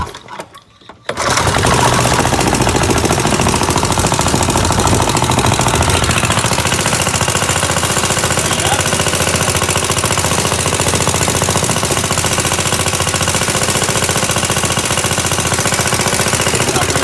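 An antique 1955 Briggs and Stratton 6S small engine fires after a brief moment of quiet and keeps running at a loud, steady, rapid putter, close up and alone.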